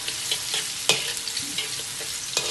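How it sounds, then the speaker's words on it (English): Shallots sizzle and crackle in hot oil in a wok, a dense steady frying hiss with sharp pops and occasional stirring clicks, close and fairly loud with no voices. "Once the shallot has turned slightly brown, switch off the fire and let the oil continue cooking the shallots."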